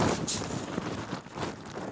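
Strong wind roars and buffets loudly against the microphone in continuous gusts.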